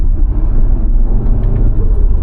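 A tuned Audi RS3 with no hardware mods, heard as a loud, steady, low engine rumble close by. No distinct gear shifts stand out and no one speaks.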